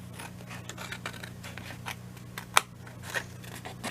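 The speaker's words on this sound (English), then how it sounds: "I'm just going to snip that part off for now" Scissors snip through paper while a heart ornament is cut out, a run of soft crisp cuts with one sharper, louder snip near the end, close and quiet.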